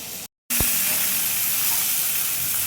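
Pointed gourd (potol) sizzles in fried spice paste in a home kitchen pan, a steady close hiss continuing after a brief cut, with a single soft knock as the pieces are stirred.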